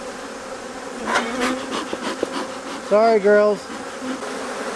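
Disturbed honeybees buzz steadily as a frame is lifted out of their hive, with a few sharper, louder whines rising above the hum. A person speaks briefly under the buzzing.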